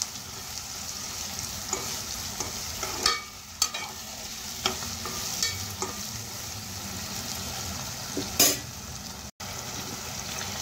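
Tomatoes cook in a pan over a high flame, giving a constant sizzle while a spoon scrapes and stirs. Sharp clicks and scrapes recur every second or two, and the spoon knocks louder against the pan near the end.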